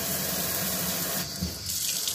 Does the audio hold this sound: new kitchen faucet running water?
yes